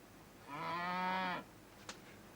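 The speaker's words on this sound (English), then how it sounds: "It's a cow." A cow gives one drawn-out moo lasting about a second, fairly quiet and alone, followed by a brief faint click.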